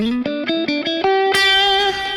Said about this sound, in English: So this particular amp model lets you get a little bit of that grit, you know. It's a great tube distortion kind of a thing.